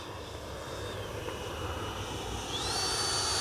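Freewing 90mm F/A-18C radio-controlled model jet passing in flight, a steady broadband turbine roar with a thin whine that drops and then climbs in pitch as it goes by, moderately loud and alone.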